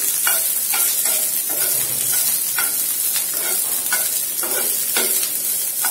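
Green chillies frying in oil while being stirred, giving a steady close hiss of sizzling with regular scraping strokes of a spatula against the pan, alone without voices.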